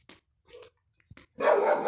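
A dog barks in a home courtyard: a few short faint yips and scattered quiet sounds, then a loud close burst of barking at the end.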